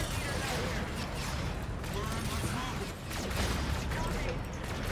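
Missile launches in the sci-fi shooter Call of Duty: Infinite Warfare, a dense, continuous roar of whooshing rockets and rumbling gunfire that stays loud throughout, briefly dipping before surging again.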